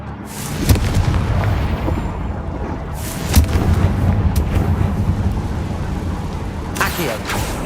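A Confringo spell cast in the Hogwarts Legacy video game, heard as loud booming blasts near 0.7 s, 3.4 s and 7 s over a constant rumbling bed of game sound.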